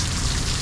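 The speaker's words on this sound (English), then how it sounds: "This is no little downpour." Heavy thunderstorm rain pours down in Needles, California, flooding the road, a dense, loud and constant roar of water hitting surfaces close by, with no break and no voices.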